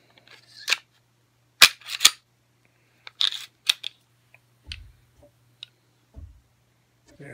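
Stainless steel Galloway Precision recoil assembly being fitted, giving scattered sharp metallic clicks and snaps up close, alone over a low steady hum.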